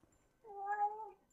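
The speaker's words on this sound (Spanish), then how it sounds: "¡Ay, la gatita!" A cat gives a single clear, drawn-out meow close by, rising and falling over about a second in a quiet room.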